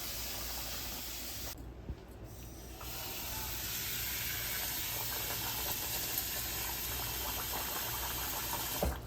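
Running water pours and sprays steadily over rice being rinsed in a pot, a continuous close hiss that briefly dips before resuming, with no voices.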